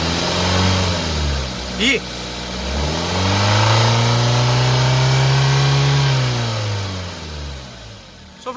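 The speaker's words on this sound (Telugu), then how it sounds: "ఎక్సలెటర్ ఇప్పిద్దాం, బ్యాక్ కంప్రెషన్ అయితే చెక్ చేద్దాం" A 2017 Maruti Suzuki Baleno Zeta petrol engine is revved from idle as the accelerator is pressed, climbing to a loud sustained rev and then falling back, recorded close to the car, with someone speaking briefly.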